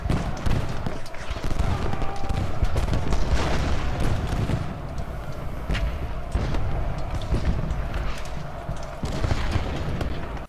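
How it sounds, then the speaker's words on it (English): Massed musket fire in the Ultimate General Gettysburg video game forms a continuous rumbling crackle of volleys and booms, steady and fairly loud throughout. "Let's see if we can start firing at Cutler."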